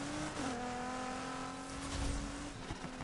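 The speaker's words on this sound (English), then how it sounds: "Whatever engine is in this thing sounds fantastic." A sports car's engine revs in Need for Speed Heat, a strong, tonal engine drone that climbs in pitch early on, then holds a smooth, high-revving whine as the car accelerates hard, moderately loud with no talk.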